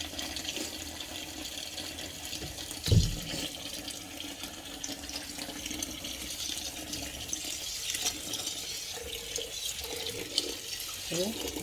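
Tap water runs steadily into a kitchen sink while rice is rinsed for jollof rice, a continuous soft splashing with one brief clunk partway through.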